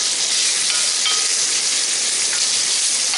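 Ingredients for a side dish to go with smoked pork butt brown in a hot pan, giving a loud, steady close-up sizzle and frying hiss with no talking over it.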